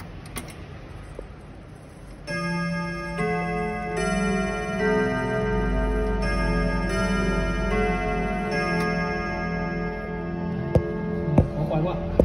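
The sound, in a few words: Kieninger C282 clock striking the half hour, ticking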